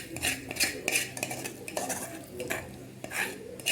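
Pasta, bechamel sauce and chicken being mixed together in a dish, with repeated close clinks and scrapes of metal utensils against the pan and wet squelching stirs in an uneven rhythm.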